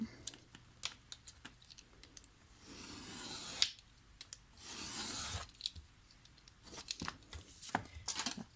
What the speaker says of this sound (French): Donc je vais couper. Non, pas avec le gros cutter. Le petit, ça sera très bien.